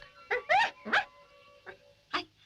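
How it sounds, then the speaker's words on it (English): A poodle in a 1959 Torchy the Battery Boy puppet episode gives a handful of short, yappy barks and yips, spaced irregularly, close and clear against a quiet background with a faint steady hum. "Just hear her bark."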